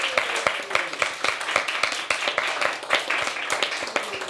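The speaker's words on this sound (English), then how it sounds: "So give Matt a round of applause." Audience applause at an awards event, a crowd's sharp, uneven claps rattling close and loud for several seconds.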